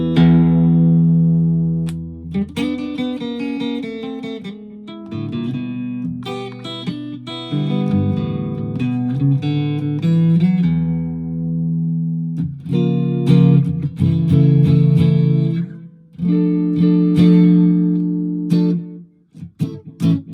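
Electric guitar through the bridge pickup, sounding dull and lacking high end, plays a loose run of picked notes and chords with gaps between phrases, close and fairly loud, with no voices.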